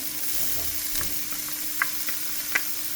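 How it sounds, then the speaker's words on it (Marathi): Chopped onion fries for a prawn gravy with a steady, close sizzle, broken by a few sharp clicks and taps of stirring. "चॉप केल्लो ऑनियन पळय भाजता भाजी करून घेता"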